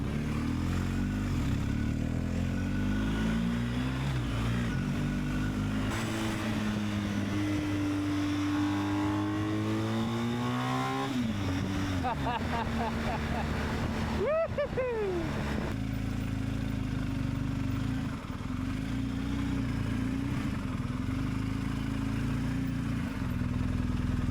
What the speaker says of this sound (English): we just had our test drive with the BMW 1250